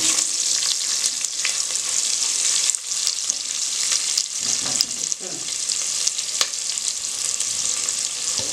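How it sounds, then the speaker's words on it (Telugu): Thinly sliced onions and cashews fry steadily in a pan for a rice dish, giving a loud, constant hiss and crackle of hot oil with occasional stirring scrapes, and no voices. "మనం ఎప్పుడు ఆనియన్స్ కొంచెం ఫ్రై అయ్యే వరకు దీన్ని బాగా కుక్ చేసుకోవాలి"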